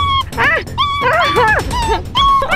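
A puppy with a thorn stuck in it whimpers and yips in a rapid run of high, wavering whines and cries, close by and loud, with no talking over it.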